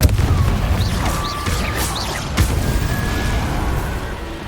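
Confringo blasting spell going off in Hogwarts Legacy, a deep boom at the start and another sharp burst partway through, over a rumbling game soundscape with whooshing magical tones.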